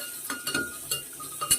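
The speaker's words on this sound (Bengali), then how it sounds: "দিয়ে ভালো করে একটু নেড়ে নেবো।" Potatoes, ridge gourd and bottle gourd tossed in a pan with cumin, stirred with a spoon in a few light scrapes and clinks, fairly close and moderately quiet.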